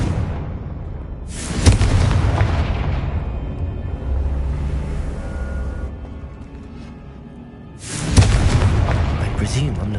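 Confringo blasting spells in Hogwarts Legacy on PS5 set off two heavy booming explosions a few seconds apart, each a sudden loud burst decaying into a rumbling tail over a low game ambience.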